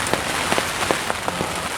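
Rain falling in the woods during a Pennsylvania hunting trip: a steady wash of patter with scattered sharper drops tapping nearby, moderately loud and continuous, with no voices.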